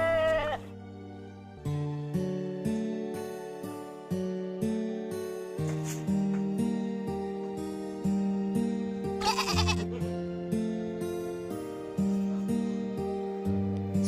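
Goat bleating within a children's Islamic kindergarten musical drama, heard over steady backing music with a sustained tonal bed and repeated pulsing notes; the bleats are not clearly separable from the melody.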